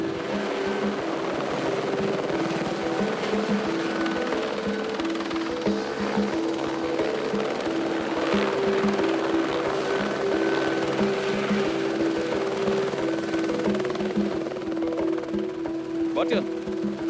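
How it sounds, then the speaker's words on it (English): Steady rotor thump and engine drone of a helicopter landing in the Kenyan wild, holding close overhead throughout, with faint voices beneath the noise. "looks for a place to set the chopper down."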